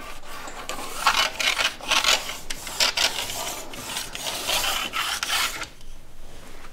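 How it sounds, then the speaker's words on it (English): A fine diamond stone rubbed along a ski's metal base edge in a circular motion, making repeated raspy scraping strokes, close and fairly loud, before stopping near the end. "We're going to go back to a finer diamond stone."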